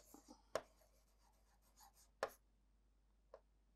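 Chalk or marker on a classroom board during a social science lesson, heard as a few sharp taps and short scratchy strokes with quiet gaps between them.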